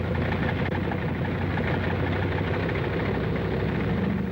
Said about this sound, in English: The sound of the engines warming up starts before dawn